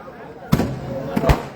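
Firecrackers go off at a midnight gathering marking Shivaji's birth anniversary: a few sharp, loud bangs, one followed by two close together, over a low murmur of crowd noise.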